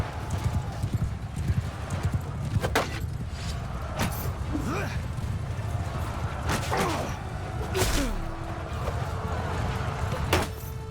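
Horse hooves clip-clop in the Mount & Blade II Bannerlord video game, a steady trotting rhythm near and loud, with occasional sharp clanks and battle noise over it.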